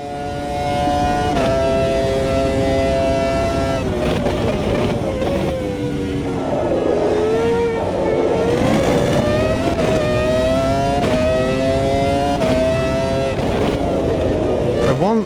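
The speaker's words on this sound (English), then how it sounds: "This car sounds awesome." Race car engine in the video game Automobilista 2 roaring and revving up and down through gear changes, loud and continuous, with a voice talking over it.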